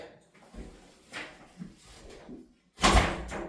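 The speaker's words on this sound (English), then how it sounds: "By rocking it on the track system, I was able to manipulate the door system." A sliding glass shower door being rocked and fitted onto its track gives a few light knocks and scrapes, then one loud clunk near the end as the panel seats into place.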